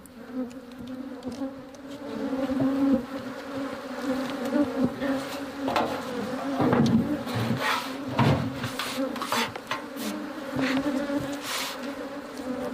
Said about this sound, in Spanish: se dedica a controlar las colmenas que ha instalado en lo alto del valle